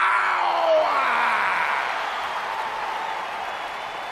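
A crowd in a WWE 2K20 wrestling arena applauds and cheers as a broad steady roar that slowly fades, with a faint rising whoop near the start.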